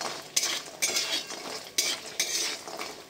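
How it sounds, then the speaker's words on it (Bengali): Lentil badi dumplings fry in oil in a wok, with a soft continuous sizzle broken by several sharp scraping clinks of a spatula stirring against the metal, close and alone. "এই তেলের মধ্যে আমি এই যে কি বলে বড়িগুলো ভেজে নিচ্ছি"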